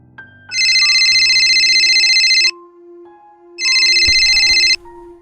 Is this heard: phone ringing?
yes